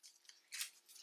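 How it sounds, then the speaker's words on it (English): Scissors trimming a paper bodice pattern around the armhole and back neck: a few quick, close, soft snips and paper rustles in a quiet room, with no talk. "it's easier to just trim a bit down the armhole and the whole of the back neck"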